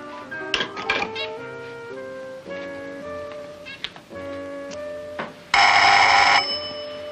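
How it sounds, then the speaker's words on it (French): A doorbell rings loudly at an apartment door, a sustained bright electric ring lasting about a second near the end, preceded by soft background music with a chime-like melody. "Attends, on sonne."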